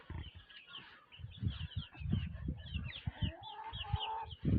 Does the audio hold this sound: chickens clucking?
yes